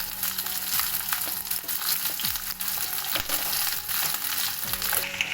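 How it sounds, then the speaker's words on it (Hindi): Pieces of pointed gourd (parwal) shallow frying in hot oil, a close, steady crackling sizzle broken by repeated stirring scrapes and knocks throughout, with no talking. "जब तक ये शैलो फ्राई हो रहा है"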